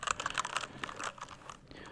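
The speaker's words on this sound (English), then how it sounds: "I really enjoy the sound of the red switches." Fingers type rapidly on a mechanical keyboard with red switches, a soft, dense patter of close keystrokes with no speech.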